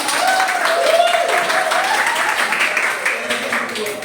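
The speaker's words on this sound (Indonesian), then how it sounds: "terima kasih, aplaus dulu untuk Diki" Applause in a micro-teaching classroom session at STAI Tebing Tinggi Deli, for a student named Diki: a steady, dense clatter of many hands filling about four seconds, with a voice heard partly over it.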